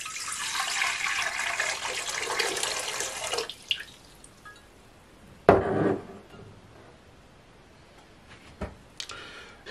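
Lukewarm water pours steadily into a mixer bowl for dough, a bright rushing stream for about three seconds, followed by a quieter stretch with a few sharp clanks and taps.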